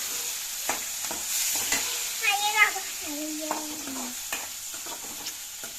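Onions fry in a pan with a soft continuous sizzle while a utensil scrapes and taps in irregular strokes; brief voices, including a child's, speak faintly in the background.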